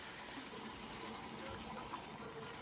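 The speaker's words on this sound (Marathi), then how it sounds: "तर यामध्ये आपण थोडेसे पाणी घालू" Water poured into a pot of prawn curry, a steady gushing, splashing pour that runs continuously and fairly close, with no talking over it.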